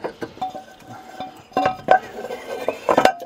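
A saucepan is handled in a camper van kitchen, with a few scattered metallic clinks and knocks of cookware, some louder clusters near the middle and end, fairly close and without talk.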